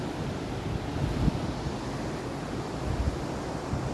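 Sea waves below a sunset viewpoint, a steady broad wash of surf mixed with wind buffeting the microphone, continuous and fairly loud with no talk.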